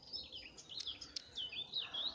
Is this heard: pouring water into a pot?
no